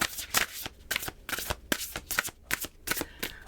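Tarot cards being shuffled for a reading, a quick run of crisp riffling and flicking bursts close to the microphone, fairly quiet and with no speech.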